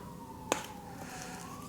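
Emergency vehicle siren outside, a faint steady wailing tone heard from a distance, interrupted by one sharp nearby click.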